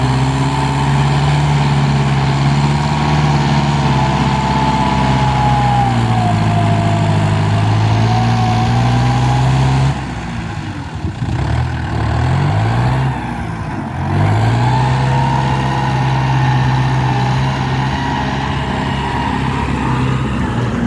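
A Kubota M9808 tractor engine runs steadily and loud while working sandy soil with a blade, its drone shifting pitch as it labours, with a brief dip in the middle before it picks up again.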